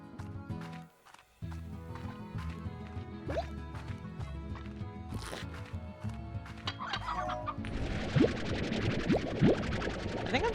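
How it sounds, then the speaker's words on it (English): Video game chickens cluck in short repeated bursts over steady layered game music and rhythmic clip-clop effects, with a denser, brighter flurry of sound toward the end. "I think I'm just gonna start collecting chickens now."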